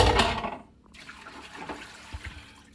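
Chicken brine is dumped out of a container into a sink with a loud splashing gush, then trickling and dripping water with a few soft knocks as the pour tapers off.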